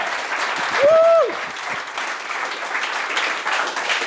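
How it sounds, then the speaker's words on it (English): An audience at a lightning talk event breaks into steady applause with a whoop and cheering near the start, the clapping continuing as a dense even wash throughout. "Round of applause for Claire!"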